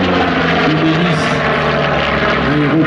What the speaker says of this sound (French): C'est un appareil qui est pourtant très traditionnel à travers sa motorisation, un moteur en étoile double rangée,